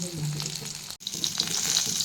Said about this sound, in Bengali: আর একটু সামান্য কড়াইতে তেল দিয়ে এবার বেগুনটা ভাজা হবে